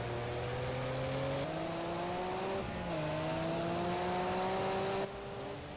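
Group A touring race cars at the Hockenheim circuit, engines holding a steady high drone and stepping up through gear changes, with a sharp drop in level near the end, heard without voices.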